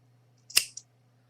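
Scissors snip through a loop of crochet yarn with one close, crisp metallic cut and a small second click as the blades close, in an otherwise quiet room with a faint low hum.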